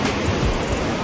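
Ocean surf crashing on a white-sand beach at Fort Pickens, a dense, steady roar of breaking waves filling the brief moment, loud and close with no voices.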